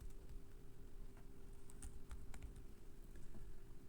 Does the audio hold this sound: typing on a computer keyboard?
yes